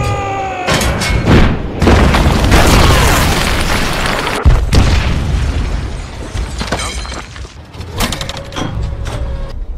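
A tank's main gun fires at a building window in a Russia versus Georgia war film, heavy repeated booms with shattering debris and rumbling aftermath, loud and close.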